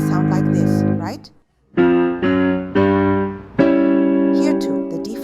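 A piano plays the left-hand part of Chopin's Black Key Etude, Op. 10 No. 5, with added intermediate notes, struck in separate ringing chords after a brief pause, each decaying before the next, clear and close.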